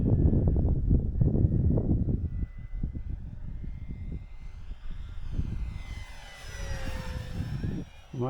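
A 1.2 m Corsair radio-controlled model airplane flies overhead outdoors, its engine whine rising and falling in pitch as it passes, loud at first, then fading and returning.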